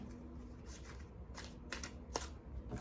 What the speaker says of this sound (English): Okay, one more shuffle and then I'm going to draw.